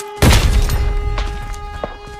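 Single gunshot in the shooter Arena Breakout, a sharp loud blast followed by a fading tail, then two fainter distant reports under steady game tones.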